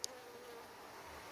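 Honey bees hum quietly and steadily while hive frames are held up in the air outside the hive, a soft droning buzz with one small click at the start.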